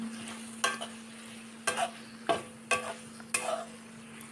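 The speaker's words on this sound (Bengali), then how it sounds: "টমেটো দিয়ে সব কিছু ভালোভাবে নেড়ে ছেড়ে মিশিয়ে নিব" A spoon stirs chickpea curry with tomato and potatoes in a pan, giving about six distinct scraping strokes at a steady rhythm over a faint low sizzle, close and without talk.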